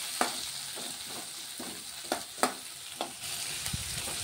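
Onions and green chillies fry with cumin and mustard seeds in hot oil, sizzling continuously up close while a spoon scrapes the pan in regular strokes.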